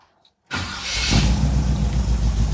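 A 1963 Chevrolet Impala SS engine cranks and fires after a moment of near silence, then settles into a loud, rumbling idle with a deep, steady low end.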